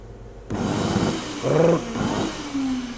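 A faulty Karcher vacuum cleaner motor runs close by with a rough, growling roar and a wavering whine that surges midway before settling.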